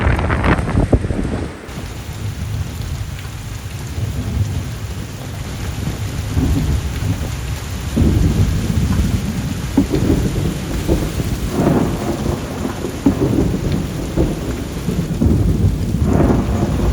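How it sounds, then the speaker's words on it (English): A thunderstorm with heavy rain pouring steadily, low rumbling thunder rolling underneath and occasional gusts of wind, loud and continuous throughout with no voices. "those storms the other night were some pretty rough storms"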